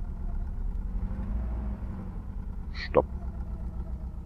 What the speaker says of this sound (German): Mach doch mal Motor aus